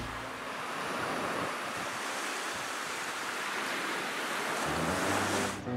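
Sea surf washing against a steep pebble shoreline in Crimea, a steady broad roar of breaking waves with wind buffeting the microphone, continuous and fairly loud throughout with no talking.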